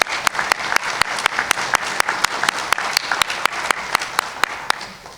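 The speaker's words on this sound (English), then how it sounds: "let's give them a round of applause for being here today" An audience at a detention academy graduation ceremony applauds the honor guard with sustained clapping, and sharp, regularly spaced claps stand out through the crowd's steady applause.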